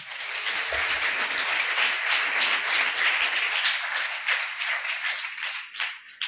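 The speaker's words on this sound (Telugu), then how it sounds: "బాగున్న వాళ్ళందరూ గట్టిగా చప్పట్లు కొట్టండి" A congregation at a church service claps loudly together, a dense steady patter of many hands lasting several seconds before thinning out at the end.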